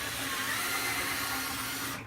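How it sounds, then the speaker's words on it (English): An electric drill with a mixing attachment stirs ceramic glaze in a bucket, giving a steady, loud, even whirring drone that cuts off right at the end. "Then gently press the trigger so that you can control the drill, and then you can slowly increase your speed once you have it under control."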